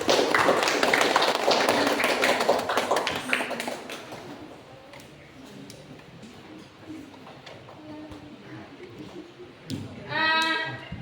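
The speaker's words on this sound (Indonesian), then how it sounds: "berikan aplaus untuk Diandra" Classroom applause rings out for a student's presentation on parallel circuits, with a burst of clapping that fades into softer scattered claps, a voice speaking, and a brief wavering sound near the end.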